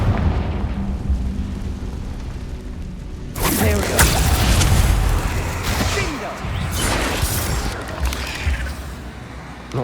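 Explosion spell bursting in Hogwarts Legacy: a loud broadband blast hits about three seconds in and is followed by a rumbling, crackling tail with a second burst near six seconds, with a voice in between.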